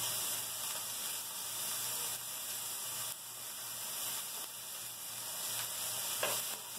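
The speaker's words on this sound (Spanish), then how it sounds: "Y le vamos a ir agregando los dientes de ajo, que son 6." Garlic cloves sautéing in a pan, six of them, a steady close sizzle and frying hiss that runs throughout with a few light stirring scrapes.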